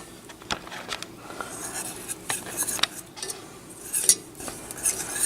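A spoon stirs thick honey and other ingredients in a pot, making steady, close scraping and clinking against the metal with soft sticky patter throughout.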